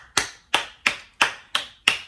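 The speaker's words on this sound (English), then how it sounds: "We'll give them an applause." Six sharp hand claps in an even, unhurried rhythm, each crisp and close with a quick decay; a single person clapping alone rather than a crowd's applause.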